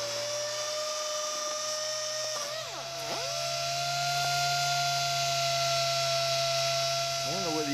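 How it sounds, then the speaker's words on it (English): A DA sander fitted with 240-grit sandpaper works metal shrinker and stretcher surfaces, giving a steady high whine that dips and drops briefly near the middle, then spins back up and runs continuously and fairly loud. "take a DA sander and sand these down to where they've absolutely got a high gloss finish on them"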